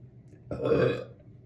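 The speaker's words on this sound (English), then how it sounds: "I gotta burp." A single deep, drawn-out burp rumbles close up, lasting about half a second before trailing off.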